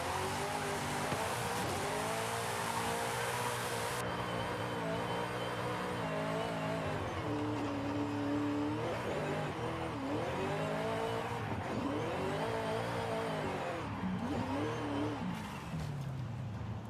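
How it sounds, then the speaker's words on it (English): V8-engined car drifting in a Forza racing game, a continuous loud engine note that rises and falls with repeated revving and throttle swings, mixed with tire squeal, with no talking. "Putting a V8 in this car is such blasphemy."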